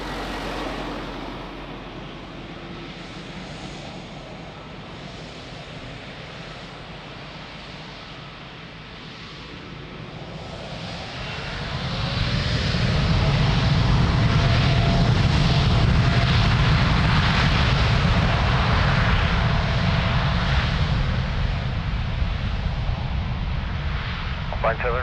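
An airliner takes off from runway 02 at Lisbon Airport, its engine roar building from a distant whine to a loud, sustained rumble midway, with radio talk heard over the early part.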